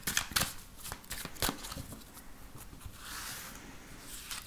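Tarot cards being shuffled, a string of soft, quick riffling flutters and crisp snaps, close and fairly quiet, coming in irregular bursts with no one speaking.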